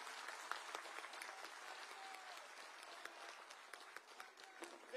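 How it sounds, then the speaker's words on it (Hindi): A crowd of lawyers at a rally claps steadily to welcome Arvind Kejriwal, continuous dense applause heard from a little distance, fairly quiet overall with a few louder individual claps standing out. "जोरदार तालियों से आप स्वागत करेंगे।"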